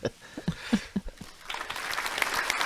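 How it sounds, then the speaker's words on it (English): Studio audience applause on a comedy podcast, starting as a few scattered claps over a short spoken line, then swelling into steady, moderately loud clapping. "that's a straight up classical applause for that one"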